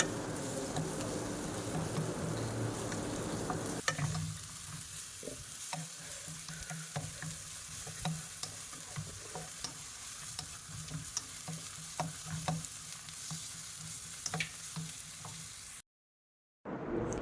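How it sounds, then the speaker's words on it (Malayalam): Ginger-garlic paste fries in a pan for chicken curry, a close, steady sizzling hiss broken by repeated scraping stirs of a spatula, softening after the first few seconds and cutting out briefly near the end; no talk. "അതിലേക്ക് ഇഞ്ചി വെളുത്തുള്ളി പേസ്റ്റ് ചേർക്കുക എന്നിട്ട് നന്നായിട്ട് ആക്കുക"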